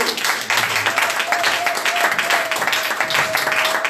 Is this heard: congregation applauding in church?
yes